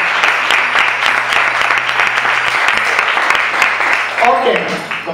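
A room full of people claps steadily and loudly, the applause sustained for several seconds before a voice briefly cuts in near the end.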